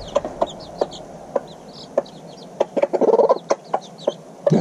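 Hens clucking among a flock of chickens, a mother hen with chicks, short sharp clucks at irregular intervals rising to a quick burst of chatter in the middle, with faint high chick peeps, close by and alone.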